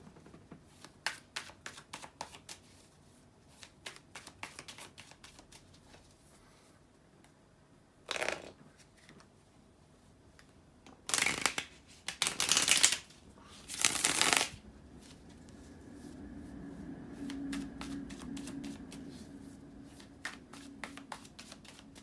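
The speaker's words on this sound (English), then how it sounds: "Now let me reshuffle the cards" Tarot cards are shuffled by hand in quick crisp riffles and taps, with a few louder bursts of rapid flicking in the middle, close and otherwise quiet.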